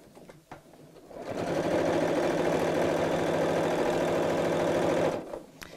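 A sewing machine stitches slowly through bulky layers of denim and batting, and the steady motor whir holds for about four seconds before stopping. Faint handling noises come before and after.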